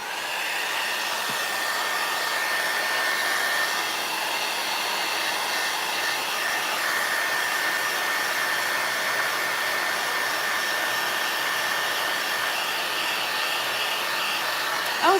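A hair dryer blows steadily and alone for about fifteen seconds, drying decoupage glue on an Easter-themed book being crafted; the whir stays close and even throughout, with no talking.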